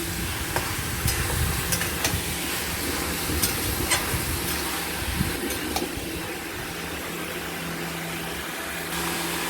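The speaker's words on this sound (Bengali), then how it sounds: "এটাকে আমরা মিনিমাম 5-6 মিনিট আমরা এটাকে কষে নেব পেঁয়াজের সাথে।" Mutton pieces sizzle with onions in a pan, a continuous close frying hiss broken by several sharp clinks and scrapes of stirring. No one speaks.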